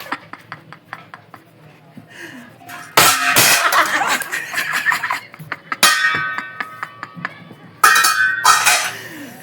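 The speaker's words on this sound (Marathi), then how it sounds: "तर झाकण ठेवा." Clinking pots and utensils in a home kitchen while besan chila cooks in a pan, with a lid set on over low flame; sharp metallic clatters come in bursts, close and fairly loud, with a person talking in between.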